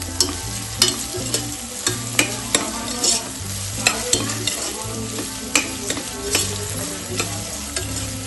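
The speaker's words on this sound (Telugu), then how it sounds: "ఆనియన్స్ తొందరగా వేగాలంటే కొంచెం సాల్ట్ వేసామనుకో తొందరగా మగ్గుతాయి" Onions frying in a pan with salt and curry leaves for goat head curry, a steady sizzle broken by regular scraping stir strokes, close and fairly loud, with no talk.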